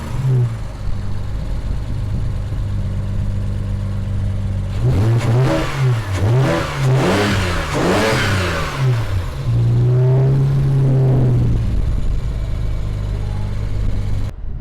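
A BMW 335i with the N54 engine and a dual cone intake idles with a steady low drone, then revs up several times in rising and falling sweeps before settling back to idle.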